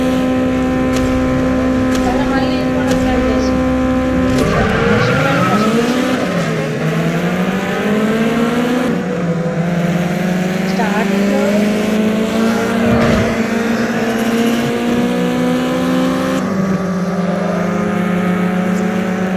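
Racing car engine in the mobile game GT Racing 2, a loud, sustained whine that climbs and drops through repeated gear shifts and revs, with brief surging transitions across the run.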